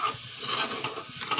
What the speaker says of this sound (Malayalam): ഇതാ ഗൈസ് ഗ്രേവി പൊരിഞ്ഞുകൊണ്ടിരിക്കുന്നു